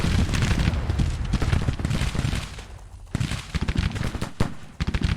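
Four-pound howitzer cannon fire in a Civil War battle video game, heard as dense, overlapping booms and crackling gunfire in a loud, continuous barrage with a brief lull midway.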